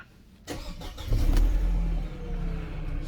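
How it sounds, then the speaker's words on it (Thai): A Mercedes-Benz W210 cranks briefly and fires up on a newly cut key, settling into a steady idle, loud and close, with no talking. "เดี๋ยวลองสตาร์ทดูนะครับ"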